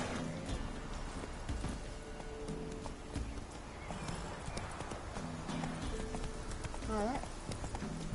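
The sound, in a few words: horse Roach's hooves clip-clopping in Witcher 3 video game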